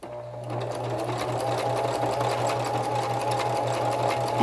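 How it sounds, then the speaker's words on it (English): A sewing machine stitches homemade Christmas cards in a steady, close, even whir of rapid needle strokes that runs without a break and with no talk. "if they see you using your sewing machine"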